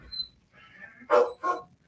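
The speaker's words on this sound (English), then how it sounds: "A crazy dog that wants in here." A dog outside a door barks two sharp, fairly loud barks after a brief whine, wanting to be let in, with quiet room tone around it.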